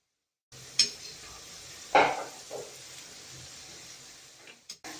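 Masala rings frying in a pan over a low-medium flame give a steady soft sizzle, broken by a few sharp clinks and scrapes of a utensil against the pan, with no talk.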